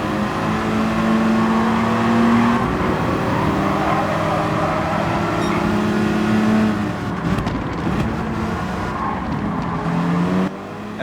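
Race cars at Interlagos in Gran Turismo 7 drone loudly and continuously, several engines overlapping with steady revving and pitch shifts as cars pass, the sound thinning briefly near the end.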